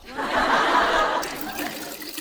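Water gushes and splashes from a barrel tap for about a second, then tapers off into softer trickling and faint movement.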